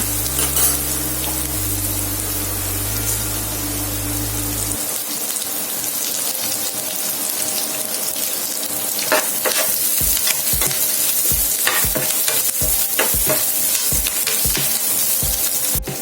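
Curry leaves sizzle and crackle in hot oil while being stirred, a steady frying hiss with sharp pops and spoon scrapes, heard up close with no talking, while making gongura (pulichai keerai) chutney.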